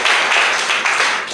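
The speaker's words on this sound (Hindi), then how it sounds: "इनके लिए ताली बजाइए" Classmates and teachers at a government school in Bihar break into brief, dense clapping for a student, a steady burst of hand claps that fills the room.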